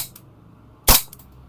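A single sharp shot from an airsoft pistol, a DBell Pit Viper JW4 or GE 1911, crisp and close, with a few faint mechanical clicks before and after in an otherwise quiet room.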